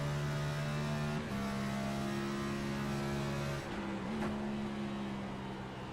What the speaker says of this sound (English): Listen to him work that throttle.